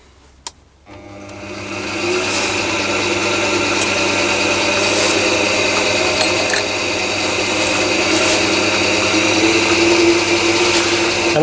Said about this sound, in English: I've put my mini lathe into the low gear range